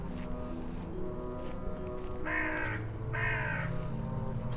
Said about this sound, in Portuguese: Olha o corvo, gente.